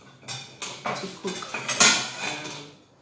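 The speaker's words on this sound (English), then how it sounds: "So what we are going to do now is we are going to stir all together" A spoon stirring a caramelized corn drink mixture for Ghanaian asaana in a pot, a series of close, uneven metallic scrapes and clanks in a rough rhythm, loud and with no talking.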